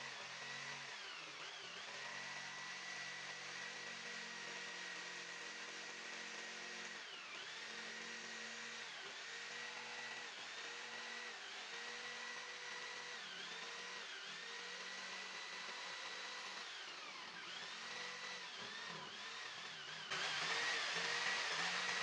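A Tolsen electric jigsaw cuts through 1 1/4 inch wood in a steady, close, continuous whine. The motor pitch dips in a repeating rhythm as the blade bites and eases, and no voices are present.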